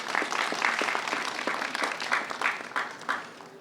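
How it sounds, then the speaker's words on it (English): An audience at a governor's press briefing before a departure flight to Poland breaks into sustained applause, a dense patter of many hands that is fairly loud and gradually thins toward the end. "Let's give them a round of applause, please."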